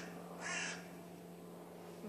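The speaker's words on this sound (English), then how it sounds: "It's okay, it's just a bird, Deanie." A crow gives a single short caw outdoors, moderately close, against a quiet background hum.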